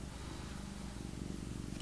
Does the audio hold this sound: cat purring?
yes